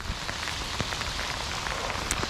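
Heavy rain pours down on a rainy day of fishing, a dense, steady hiss of drops striking surfaces close by, with scattered sharper taps throughout and no one speaking.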